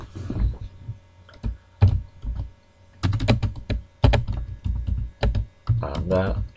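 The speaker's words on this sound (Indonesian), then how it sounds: "Kemudian tinggal ketik." Fingers tap a computer keyboard in quick clustered bursts separated by short pauses, close and clear over a low background hum.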